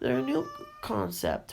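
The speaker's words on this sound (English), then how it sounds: "if you heard the meowing in the distance" A cat meows in the distance, its drawn-out tonal cry rising softly beneath a person talking close by.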